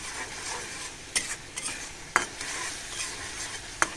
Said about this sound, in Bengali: ভালো করে কষাই নেব শুটকিটাও